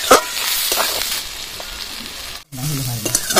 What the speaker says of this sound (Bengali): ভালো করে ভেজে নেব আলুর সঙ্গে মশলাটা